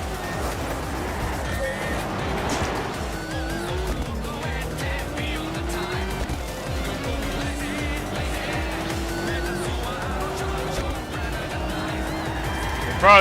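Toyota Prius driven hard through mountain touge corners in a racing video game, with rising and falling engine pitch through repeated gear shifts, tire squeal in the bends and faint game sounds beneath.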